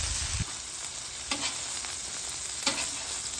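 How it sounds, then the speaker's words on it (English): A burger patty in a hot pan being basted with foaming garlic butter, a steady loud sizzle with occasional spoon scrapes and clinks close by, no talk. "As that butter foams up, just basting it just like you would a steak"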